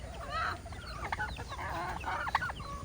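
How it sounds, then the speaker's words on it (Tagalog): A Rhode Island Red rooster and hens cluck and chatter in a backyard flock, short calls overlapping at moderate distance over a low ambient hum. "Yung ating Rhode Island Red na lalaki."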